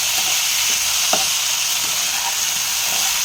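Ginger, garlic and green chili paste fries in hot oil for a bhetki fish curry with cauliflower and potato, a steady loud sizzle with a few faint stirring scrapes.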